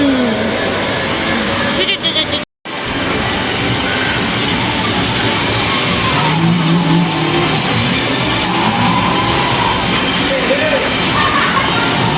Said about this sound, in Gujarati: હું બાઇક ચલાવવા માટે બેઠી છું